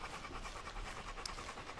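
Rapid, steady panting of a dog character in an indie video game, quick breathy puffs repeating evenly throughout at moderate loudness, with no talk over it.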